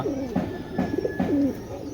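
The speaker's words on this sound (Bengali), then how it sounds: "তো কবুতর দুইটা দেখেন মাশাআল্লাহ" Black pigeons coo close by in soft, repeated rolling calls, a few phrases in quick succession with nothing else around.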